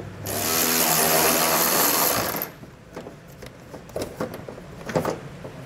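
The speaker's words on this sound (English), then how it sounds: "We'll take our 8mm socket to remove the fastener here at the back." An 8mm socket on a power tool whirs loudly for about two seconds, removing a fastener at the back of a 2019 Ford Fiesta, then stops, leaving faint clicks and handling noises.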